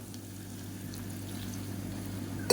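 Water pours steadily into a pot, a continuous low splashing rush that holds even throughout, ending with a brief louder clink.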